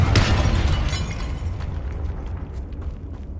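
A Confringo blasting spell explodes in Hogwarts Legacy, a loud booming burst up front that rumbles and crackles, then fades into a lingering low roar with faint debris ticks.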